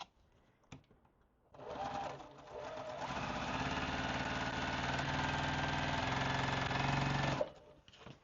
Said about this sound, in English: we're just going to sew these on with the 1/4 inch seam